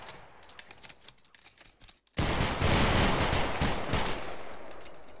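A musket volley crashes out in Battle Grounds III, a sudden loud burst of many overlapping shots that rolls on as a dense rattling roar after a quieter stretch of scattered clicks and distant noise.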